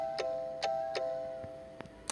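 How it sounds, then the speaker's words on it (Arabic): A doorbell in a home chimes in a few short, bright rings spaced about a third of a second apart, each followed by a faint ringing tail. Softer clicks follow, and no one speaks. "رن الجرس."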